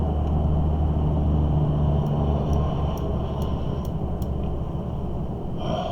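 Steady road traffic rumbles along a street in Utah, a continuous low wash of passing cars with faint brief clicks on top, moderately close and without speech.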